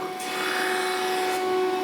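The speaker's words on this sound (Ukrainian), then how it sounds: "Ну, Коротше, шліфуємо на гладко" A steady abrasive whir of a grinding wheel against a surface, with a constant tonal hum underneath, continuous and close.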